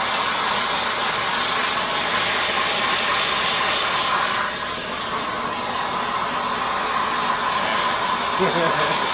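A heat gun blows a steady, loud broadband rush of hot air onto a burnt titanium intake elbow from a Nissan, holding nearly constant for the whole stretch with a brief dip midway.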